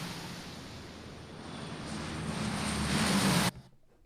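A plane flies past as a stereo sound source in Unreal Engine 5, a broad steady engine roar that slowly swells louder before cutting off abruptly.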